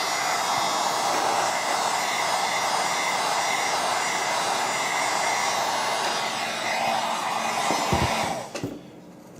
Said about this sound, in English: that's why we have the heat gun here